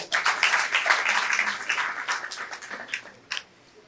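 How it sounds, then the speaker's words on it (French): Applause from students and teachers at a school prize-giving ceremony, a dense burst of clapping that gradually thins and fades, with one brief louder flurry near the end. "Applaudissez-vous vous-même."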